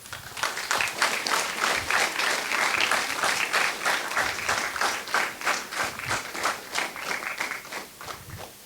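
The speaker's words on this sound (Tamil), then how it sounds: "இந்த கைத்தட்டல்கள் போதாது" Audience applause at a university induction program, a sustained crowd of hands clapping with rhythmic pulses that swell early and slowly thin toward the end.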